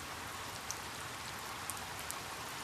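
Steady rain falls throughout, a dense even hiss of drops on surfaces with a few brighter drips standing out, continuous and close with no voices.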